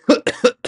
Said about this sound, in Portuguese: Mas quando começou essa tosse?